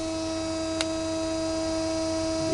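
Steady electric hum of a pulse motor generator spinning at roughly 1600 RPM under load with two coils, with strong stable tonal lines, one brief click near the start, and no talk.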